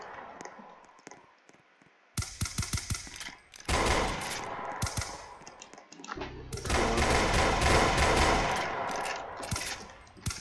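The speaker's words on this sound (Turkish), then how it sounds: "silah sıkıyorlar arkadaşlar kaçmam biraz imkansız gibi" Gunfire crackles in the Roblox Brookhaven video game, with long rapid bursts of automatic shots and rattling volleys, loud and close, separated by brief quieter gaps.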